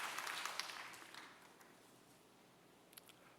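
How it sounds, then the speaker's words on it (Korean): Church congregation applauding during a sermon, a faint, fading burst of clapping that dies away within a couple of seconds, heard from a distance, leaving near silence. "우리 하나님께 영광의 박수를 올려 돌리십시다"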